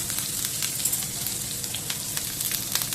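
Onions and green chillies fry in oil in a pan for dosa, a steady close sizzle with crackling pops running throughout, no voices.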